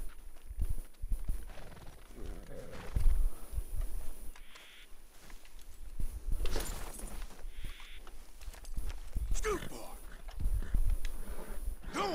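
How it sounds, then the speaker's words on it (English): Suffolk Punch horses in the video game Red Dead Redemption 2, with hooves clopping unevenly at moderate distance while a person talks over them. "Got all of these horses free though."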